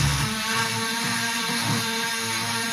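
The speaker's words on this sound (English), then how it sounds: "let the Dremel do the work" A Dremel rotary tool drills through a metal plate while jewelry is being made, giving a steady, continuous high-pitched grinding whine over a broad hiss that stays even throughout.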